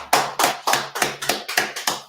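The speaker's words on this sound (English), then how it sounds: "Let's clap it up." A group clapping hands in unison, eight sharp evenly spaced beats about a quarter second apart, close and loud with no talking over it.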